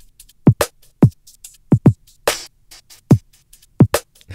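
A drum loop sample played back in Ableton Live's transient loop mode, with punchy kick-like hits and a sharp snare-like burst repeating in a choppy, gated rhythm, loud and clean with nothing else behind it.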